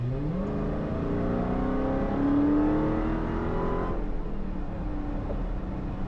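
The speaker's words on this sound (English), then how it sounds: "Love that supercharger whine. That was just basically a half throttle in sport mode right there." A 2022 Dodge Charger Hellcat Redeye at half throttle in sport mode, its supercharger whine rising with the engine revs for about four seconds, then easing off into a steady, lower drone; close and loud, with no talk.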